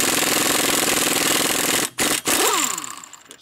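A power impact tool hammers on a crushed nut on a car in a fast, loud, continuous rattle, then stops briefly twice and winds down to quiet.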